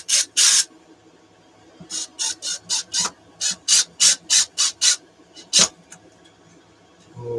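A drill bores into metal in a run of about a dozen short, loud bursts of high whine, some grouped in pairs, separated by brief quiet gaps, with no talk.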